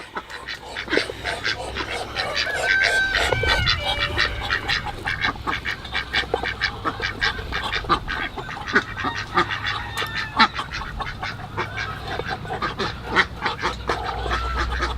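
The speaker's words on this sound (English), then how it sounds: "Oh, it is feeding time for the ducks. Here they go. Wow. They are hungry." A flock of ducks and geese quack and honk excitedly up close, overlapping in a busy, continuous chorus with some splashing.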